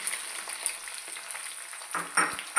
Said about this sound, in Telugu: పల్లీలు వేయించాలి.